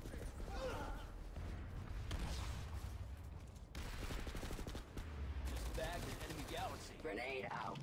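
Rapid bursts of submachine gun fire ring out in the infantry shooter PlanetSide 2, sustained rattling volleys with short pauses between them, while someone talks over the shooting.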